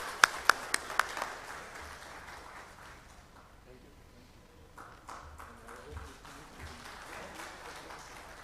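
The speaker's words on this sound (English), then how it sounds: "Let us give him all the applause." Applause from an audience at an offshore drilling operations incident review committee event: a few sharp claps up front, then a soft, spread-out patter fading under a hall's murmur and a voice.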